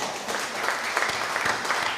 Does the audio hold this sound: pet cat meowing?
no